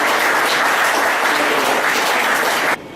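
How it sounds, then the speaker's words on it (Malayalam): An audience applauds warmly to welcome a guest, Mr. Manu, at a design awareness programme, with dense, steady clapping filling the room at close range before it drops off sharply at the end. "നിങ്ങളെല്ലാവരും ആത്മാർത്ഥമായി കൈയടിച്ചുകൊണ്ട് മിസ്റ്റർ മനുവിനെ"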